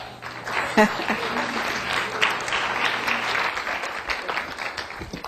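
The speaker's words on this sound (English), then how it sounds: "This is why you clap." An audience at a leadership seminar claps as a presenter is called up, a steady crackle of many hands lasting several seconds, with a brief voice and a sharp knock early on.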